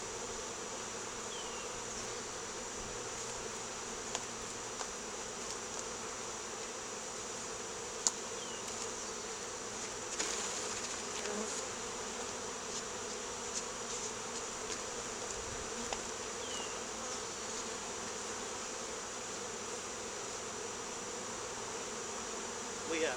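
Honeybees from a newly installed swarm buzz in a continuous low drone, a faint steady hum with occasional closer passes and no talking.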